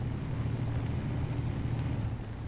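Engine of a Nissan Patrol GQ in SnowRunner, a steady low droning rumble at close range, holding an even idle-like tone throughout with no talk.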